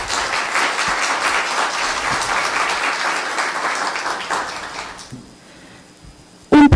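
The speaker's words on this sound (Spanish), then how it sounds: "Un aplauso, por favor." Audience applause for a speaker introduced at a conference on biogas and biomethane technologies, a dense steady crowd clapping for about five seconds before fading out, followed by a brief loud knock near the end.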